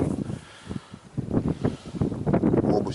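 Strong gusts of wind buffeting the microphone in an open field, rumbling low bursts that rise and fall in uneven surges.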